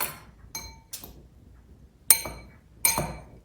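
A spoon clinks against a bowl while breadcrumbs and grated parmesan are stirred together for a pesto crust on salmon. There are about five sharp, separate taps with quiet gaps between them, close by and with no talking.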